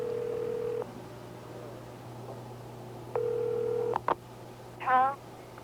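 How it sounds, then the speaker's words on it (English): Landline telephone dialing a pay phone number: a steady dial tone, a pause, the tone again, then quick dialing blips and a short warbling ring, heard over a faint constant hum. "Tony places the call to the pay station number."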